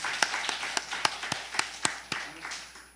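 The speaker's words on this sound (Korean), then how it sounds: "우리 하나님께 박수로 한번 영광 돌리겠습니다." A few members of a church congregation during a Sunday service clap in a sparse, uneven rhythm, roughly a dozen distinct claps over a few seconds, fairly close and moderate in volume.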